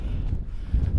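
Strong wind buffeting the microphone on an open Lake District fell during a fell run, a steady low roar with gusts and no voices.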